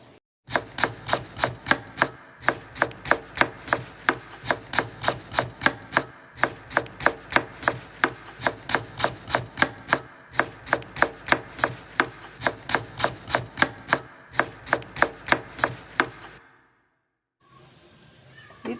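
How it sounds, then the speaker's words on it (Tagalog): Knife chopping pechay on a cutting board, quick steady rhythmic chops close by in long runs with brief pauses, ending in a short quiet stretch. "Tara, samahan nyo lang ako maghiwa"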